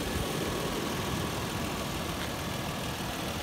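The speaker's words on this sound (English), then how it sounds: "You might hear ticking, which is the valve train of the engine." A 2005 Toyota 4Runner engine idles steadily with its valve train ticking, a constant close-up mechanical hum and rattle with no voices.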